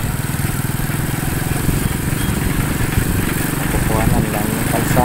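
A motorcycle rides along a road between Santo Domingo and Prieto Diaz, its engine droning loud and steady throughout, close and continuous, with a person talking under the engine noise.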